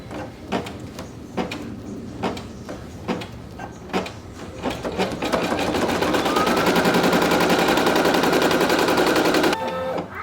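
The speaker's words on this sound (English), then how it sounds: "press the green button, and it will do the tack down stitch" A Brother PE800 embroidery machine stitches an appliqué tack-down line on a baby blanket, first as spaced mechanical taps, then settling into a steady, rapid, close-up whirring chatter for several seconds before stopping abruptly.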